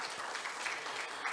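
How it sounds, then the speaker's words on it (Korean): Audience clapping at a university leaders' forum, a steady patter of hands that is fairly quiet and distant and runs evenly through the short stretch. "다시 한번 박수 한번 보내주십시오."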